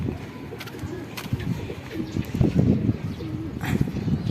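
Pigeon cooing close by in a house, a soft repeated low warble that runs through most of the moment against faint background noise, with no talk over it.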